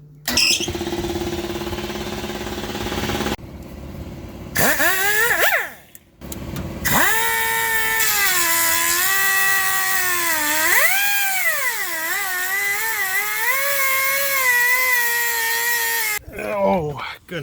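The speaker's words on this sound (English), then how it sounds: "Time to start cutting out some blown out exhaust pipe" A power tool cuts out blown old exhaust pipe on a 1964 Pontiac Lemans, with loud, close, whining squeals that rise and fall in pitch, broken by brief pauses and a rough grinding stretch at the start.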